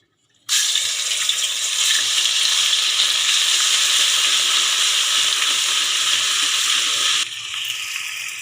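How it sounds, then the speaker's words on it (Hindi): Loud steady sizzling of garlic-ginger paste frying in hot oil, starting abruptly and hissing continuously, easing slightly near the end. "इसके अंदर हम डालेंगे लहसुन अदरक का पेस्ट"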